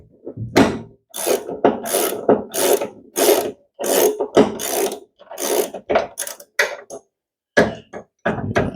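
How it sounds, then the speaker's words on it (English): A ratchet undoes a nut on a snowblower in quick, loud clicking bursts of several strokes each, close up, with short pauses between the runs and no speech. "Undo that nut."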